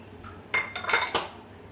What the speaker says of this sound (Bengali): এই পর্যায়ে আমি দিয়ে দেবো ভেজে রাখা মাছগুলো